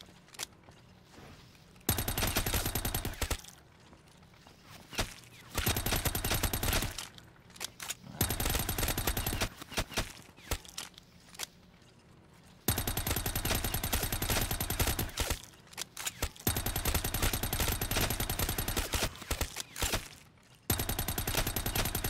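Video game gunfire from Black Ops 3 custom zombies, on a Minecraft-themed one-window map, in loud sustained bursts of rapid automatic fire separated by short pauses.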